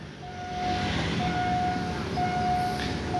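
An Alsthom diesel locomotive rumbles past a Bangkok halt with a deep, steady engine drone, and a long horn-like tone sounds intermittently over the noise.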